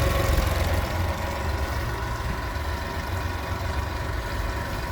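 A mid-1990s Honda 50hp in-line three-cylinder four-stroke outboard with three carburetors runs at a steady idle, a constant close rumbling drone with a faint vibration and no voices.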